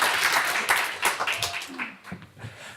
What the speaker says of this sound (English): a round of applause before you spoke